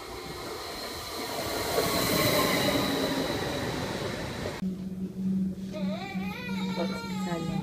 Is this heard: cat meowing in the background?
no